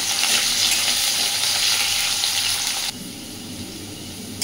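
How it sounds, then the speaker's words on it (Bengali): Potatoes frying in a pan give a loud, dense hiss for a few seconds, then it drops suddenly to a quieter, softer sizzle. "তাই আগে আলুটাকে একটু ভেজে নেব।"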